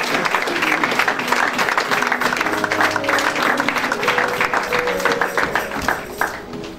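A church congregation gives loud, sustained applause and cheering to welcome Pastor Didier Chastagner, a dense continuous wash of many hands clapping that tapers slightly toward the end.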